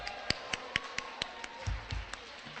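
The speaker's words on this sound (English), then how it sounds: "And give yourselves a round of applause for all the work you accomplished today." Sparse, measured clapping from a small group at a school gathering, roughly ten crisp claps spaced evenly, near and fairly quiet, with a brief low thump partway through.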